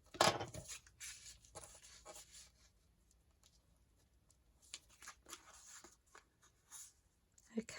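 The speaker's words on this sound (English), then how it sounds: "I'm going to run my bone folder" A bone folder rubs and scrapes over paper in short, soft strokes during a tag-making craft session, close and quiet, with brief pauses between passes.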